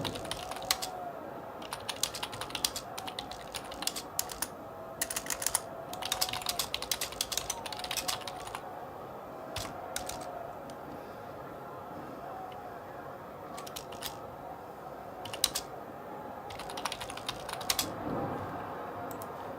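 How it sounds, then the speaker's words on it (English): Rapid typing on a computer keyboard, close and fairly quiet, with uneven bursts of key clicks and short pauses continuing steadily over a faint room background. "I'm typing this to Dave right now because he's going to die."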